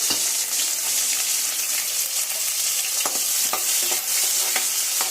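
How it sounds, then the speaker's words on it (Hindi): Cumin, green chili and garlic fry in hot oil in a kadai, a close, busy sizzle with spatters and occasional sharp clinks of a stirring spoon against the pan, no voices. "कढ़ाई हमने रख दी है, हमारा तेल गर्म हो चुका है। और इसमें सबसे पहले हम डालेंगे जीरा।"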